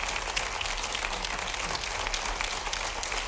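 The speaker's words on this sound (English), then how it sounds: "Oh, big round of applause there." Audience applause after an orchestra plays a piece, 1992: steady, dense clapping from a concert hall crowd, moderately loud and continuous throughout with no voices.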